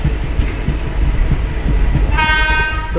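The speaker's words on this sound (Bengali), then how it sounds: "তো বন্ধুরা ফাইনালি হাওড়ায় ট্রেনটা ঢুকলো।" Netaji Express train pulling into Howrah station, a steady rumble of wheels with rhythmic clacks over rail joints, then a loud sustained horn blast sounding near the end.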